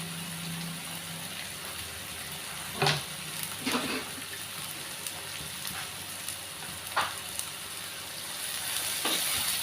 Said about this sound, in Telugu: సాల్ట్ వేసుకోవడం వల్ల ఆనియన్స్ అనేది తొందరగా ఫ్రై అవుతాయి.